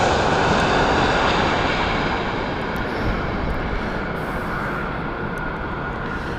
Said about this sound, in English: This is the Airbus A321neo from Beirut. From Middle Eastern Airlines.